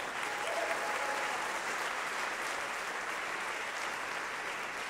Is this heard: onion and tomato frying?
no